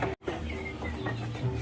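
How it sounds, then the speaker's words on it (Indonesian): Chickens and muscovy ducks cluck while feeding in a sheep pen, giving soft, close, intermittent clucks over low background noise. "Dan ada ayam juga, ada entok juga"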